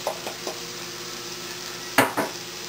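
Mushrooms tossed into a hot pan for cauliflower risotto, a steady sizzle underneath a few light knocks and a couple of sharp clanks as they are stirred, close up with no voices.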